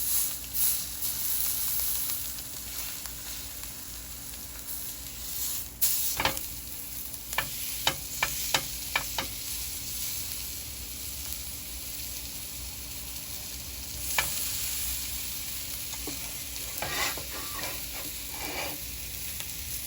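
Steak sizzling on a new grill over a fire, a constant hissing crackle with bursts of sharp clicks and scrapes from a utensil, close and fairly loud, no voices.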